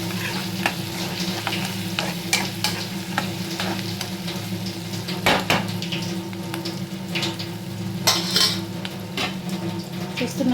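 Mushroom curry simmering in a pan, a continuous soft sizzle and bubbling with repeated scraping and clinking of a spoon stirring against the metal, close and steady throughout.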